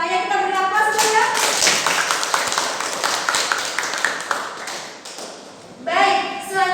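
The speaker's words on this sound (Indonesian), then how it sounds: "Kita beri aplaus dulu ya." A classroom of students applauds, with steady, dense clapping lasting several seconds before it fades, and the teacher talking over it at the start and end.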